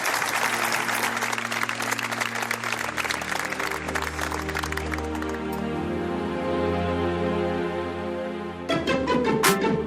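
A studio audience breaks into applause for a radio show's guest, a dense burst of clapping that soon gives way to a steady musical jingle with sustained tones, ending in a brighter chime.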